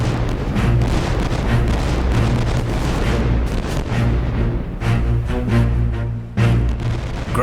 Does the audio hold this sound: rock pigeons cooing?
no